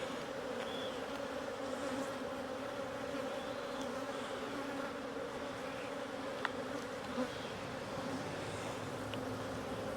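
Honey bees buzzing steadily around an open hive during an August inspection of honey stores, a soft continuous drone that fills the background without any talk.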